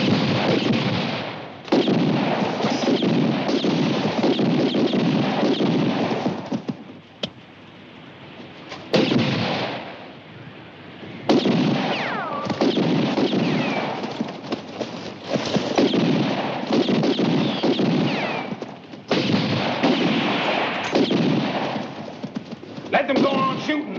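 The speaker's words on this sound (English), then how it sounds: "Let them go on shooting. They'll soon run out of ammunition." Gunfire in a western shootout, dense repeated shots and booming reports heard almost continuously in loud bursts with brief lulls, with voices speaking among them.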